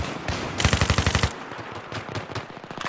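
Rapid automatic gunfire in Battlefield 3 multiplayer, a close, loud burst of evenly spaced shots followed by further quicker, patchier bursts.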